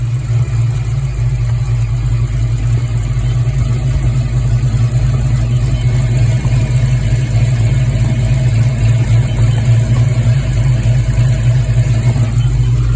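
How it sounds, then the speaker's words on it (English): A Ford Fox-body Mustang engine idles steadily with a hard-start, surging-idle problem when warm, giving a loud, continuous low rumble with an even throb and no revving. "The engine hasn't been running that long, just a few minutes."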